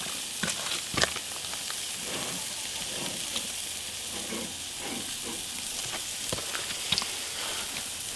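A hamburger patty seasoned with kosher salt and coarse black pepper sizzles steadily on a grill, with a continuous hiss and occasional louder pops and crackles.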